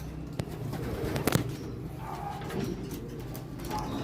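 Pigeon cooing at a pigeon racing derby loft, soft low coos under steady outdoor background noise with a few brief knocks and flutters, no talk.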